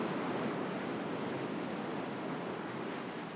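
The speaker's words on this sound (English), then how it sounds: "When water with sand in it washes over these rocks, that wears off little bits from them too." Sand-laden ocean waves wash over rocks in a steady, loud, unbroken roar of surf with no voices.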